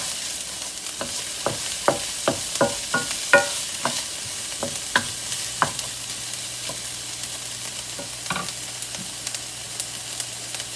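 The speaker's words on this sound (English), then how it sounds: "Saute your onions." Onions sautéing in a pan give a steady low sizzle, broken by a run of sharp scraping stirs close by that come quickly at first and then thin out.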